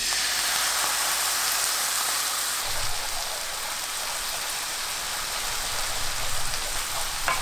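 Seasoning sauce boils and sizzles in a pan with kkari chili peppers for anchovy stir-fry. The hiss is loud, steady and close, with a few faint pops and no talking.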